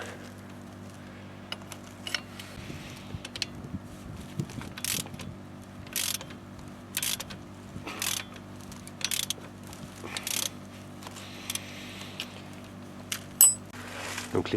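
A ratchet wrench clicks in repeated short bursts while loosening the upper front brake caliper bolt on a Peugeot 407, close and crisp over a steady low mechanical hum, with pauses between strokes.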